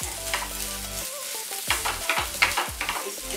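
Boiled potatoes are stirred in a pan with a spoon, repeated scraping and mashing strokes over a low sizzle, close and steady, with a hum in the background.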